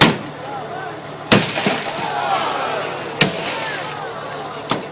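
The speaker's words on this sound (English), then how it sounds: "What we're going to do then is break the windows." Firefighters break the windows of a car during a vehicle extrication demonstration: three sharp glass-breaking cracks, loud and close, with glass crunching and trickling between them.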